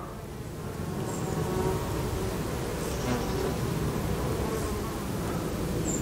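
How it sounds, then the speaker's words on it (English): Common carder bumblebees and honeybees buzz steadily on lavender in a summer rewilded garden, a continuous close hum with a few brief higher whines from passing insects. "More bumbles on this than honeybees."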